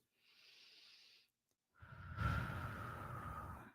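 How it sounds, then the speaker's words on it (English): A slow, deep breath, drawn in softly and then let out in a longer, fuller exhale after a short pause, close and intimate in a quiet room. "Take a nice deep breath."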